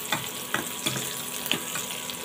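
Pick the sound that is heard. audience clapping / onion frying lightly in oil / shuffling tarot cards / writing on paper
onion frying lightly in oil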